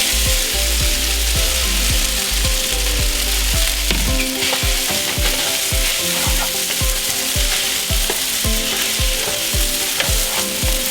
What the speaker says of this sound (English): When you're stir frying noodles, it's good to have a pan that's deeper